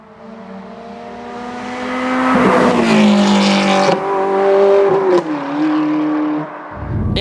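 A Ferrari F430's 4.3-litre flat-plane crank V8 runs at full throttle, its loud, rising howl building, holding high, then dipping briefly between gear changes as the car passes close by.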